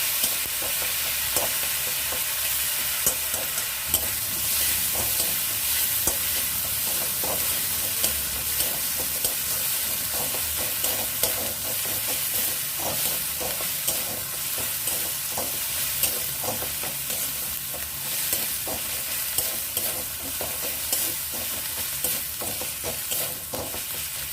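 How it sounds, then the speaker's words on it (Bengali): Ginger, garlic and onion paste fries and is stirred in a pan, a steady close sizzle broken by repeated scraping strokes of the spoon, with no talking. "আদা রসুন পেঁয়াজ বাটা মশলাটা দিয়ে ভালো করে ভাজা ভাজা করে নেব"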